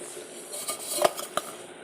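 A lid is set onto a cooking pot while making rasgulla, producing a few sharp metallic clinks and knocks over a faint sizzling hiss, close and without speech.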